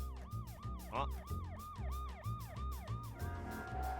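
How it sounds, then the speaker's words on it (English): The siren of an armored police car in a video game wails in a rapid, repeating up-and-down sweep. It is continuous and prominent throughout, with a brief vocal exclamation partway through. "an armored police car comes driving up."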